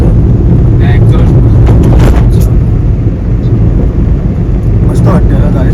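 A BMW car's engine rumbles loud and low through an aftermarket exhaust silencer, a heavy continuous drone with wind buffeting and faint voices around it.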